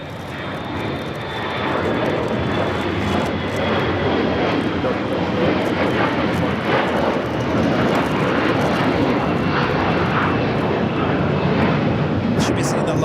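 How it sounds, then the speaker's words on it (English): A Lufthansa Airbus A380 taxiing toward the gates at LAX's Tom Bradley terminal, a steady loud engine roar that holds unbroken throughout, with a voice talking over it. "the Lufthansa A380 now heads into the gates of Tom Bradley"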